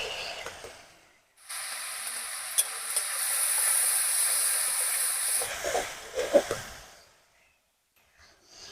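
Chopped green chilies and a spoonful of cumin powder hit hot oil in a pan, a loud steady sizzle that starts abruptly, holds for several seconds, then breaks into a few crackles and stirring scrapes before fading.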